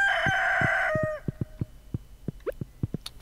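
A rooster crows in the farming video game Stardew Valley, one long loud crow followed by a series of soft rhythmic clucks and small chirps.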